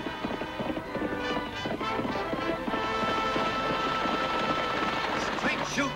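Galloping horse hooves from a hard-riding Western television series, a steady clip-clop rhythm running throughout under loud orchestral music and a narrator's voice.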